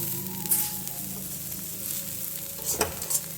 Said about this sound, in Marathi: कांदा लसणे हे लसण आणि अद्रकची पेस्ट टाकते आता ह्या चांगल्या भाजल्यात